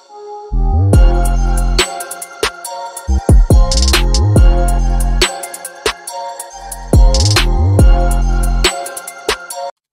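A drill beat plays loudly, with deep sliding 808 bass notes, sharp drum hits and a melodic layer, in stop-start bursts.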